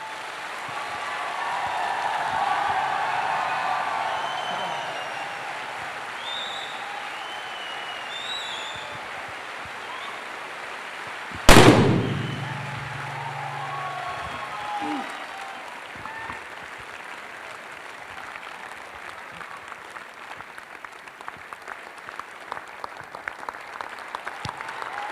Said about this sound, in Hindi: एक बार ये तालियां मेरी माँ के लिए बजा दीजिए।